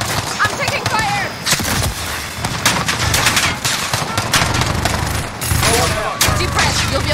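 Rapid bursts of automatic gunfire and single shots crackle loudly in a Call of Duty Modern Warfare co-op Spec Ops mission, dense and continuous with brief lulls, while voices call out over the shooting.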